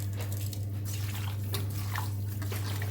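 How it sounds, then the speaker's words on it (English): Pork meat washed in water, with steady splashing, dripping and sloshing close by over a constant low hum, and no talking. "Wash the meat nicely."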